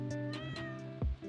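A cat in Stardew Valley meows clearly up close, a few short high cries in quick succession over soft game music.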